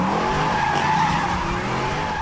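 A Dodge Challenger SRT8 skids with its tires squealing loudly and continuously, the engine roaring underneath throughout the short burst.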